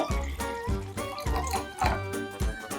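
Vinegar is poured in repeated short bursts for a home science experiment, each splash and gurgle of liquid rising and cutting off in a quick, rhythmic pattern close by.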